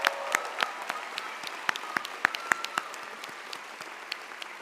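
Commencement ceremony crowd applauding in a large hall, a moderately loud spread of many clapping hands with scattered sharper claps standing out, fairly distant and continuous throughout.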